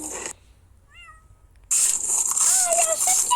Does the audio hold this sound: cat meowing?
yes